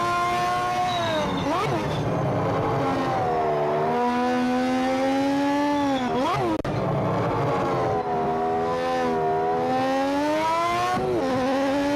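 A race car engine in the Project Motor Racing game revs hard and loud, its pitch climbing through each gear, with three sharp downshift blips that briefly spike the note before it settles back into a sustained roar.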